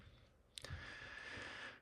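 Quick computer keyboard typing, a short cluster of faint clicks over a steady background hiss.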